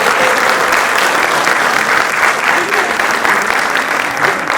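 A theatre audience gives loud, sustained applause at a founding-day drama staging, a thick continuous roar of many hands clapping close and strong, with some voices mixed in.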